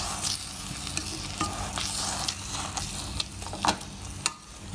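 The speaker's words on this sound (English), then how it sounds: "Now with the help of the back side of the spoon, slightly mash it." Cooked tomatoes sizzling in hot oil in a pan while the back of a spoon mashes them, with steady frying hiss and scattered scraping taps of the spoon.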